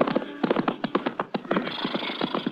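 Horse hooves clip-clop in a steady, fairly close walking rhythm as a radio drama sound effect of a borrowed horse heading up into the hills, with a faint voice briefly mixed in.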